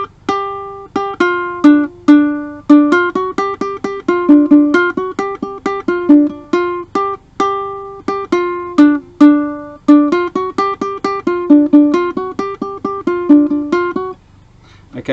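A ukulele picks a solo riff, a bright, quick run of plucked notes in a bouncy repeating pattern, played through twice before ringing off at the end.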